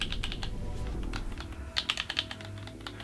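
PS5 DualSense controller adaptive triggers pressed repeatedly, a soft run of small plastic clicks and taps, close and fairly quiet, with a few sharper clicks near the end and no talking.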